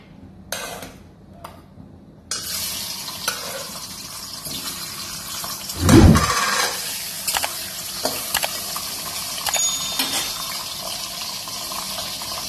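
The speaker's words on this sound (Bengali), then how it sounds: "মাছের মোড়োটা ভাজা হোক।" A hilsa fish head fries in hot oil, giving a continuous crackling sizzle after a few brief clattering sounds. A loud hiss and splatter burst out near the middle, then fade into steady frying with occasional pops.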